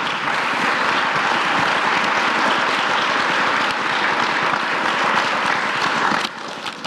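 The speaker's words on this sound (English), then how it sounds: "Now applause." An audience at a candidate forum gives a strong, steady round of applause that holds at full volume for about six seconds, then cuts off abruptly into near quiet with a final stray clap.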